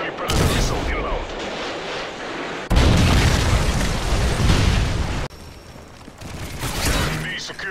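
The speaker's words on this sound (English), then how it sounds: "Enemy predator missile inbound." Predator missile strikes and explosions in Modern Warfare 3 multiplayer, loud sustained booming blasts and rumbling gunfire filling the scene, with brief in-game voice callouts.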